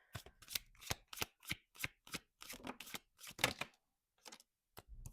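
Tarot cards being shuffled during a love reading, a run of crisp riffling bursts and soft slaps in an uneven rhythm, close and clear with no talking.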